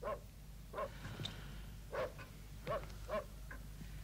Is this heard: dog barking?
yes